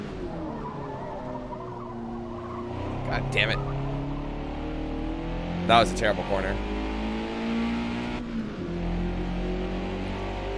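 A deep, throaty race exhaust roars from a fully modified race car in the video game Forza Motorsport (2023), changing pitch through gear shifts, with tire squeals; someone speaks briefly over it.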